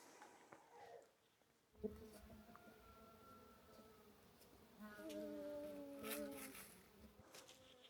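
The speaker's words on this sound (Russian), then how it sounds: "тут уже почти вся пчела разлетелась" Bees fly around beehives, producing a continuous soft buzzing hum with tonal drones rising and fading as individual insects pass close, heard faintly outdoors with some rustling.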